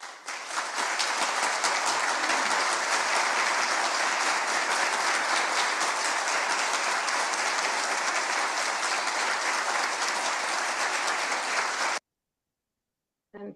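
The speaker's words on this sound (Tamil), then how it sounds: "சிறப்பான பேச்சை பாராட்டி கரகோஷம் செய்வோமா?" Steady, even applause from an audience after a speech at a Tamil talk event, continuous and fairly close for about twelve seconds, then cutting off abruptly to silence.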